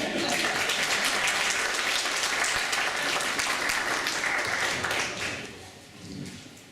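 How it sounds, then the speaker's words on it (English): Steady crowd applause, loud and continuous for about five seconds, then fading out. "let's give this young man a round of applause."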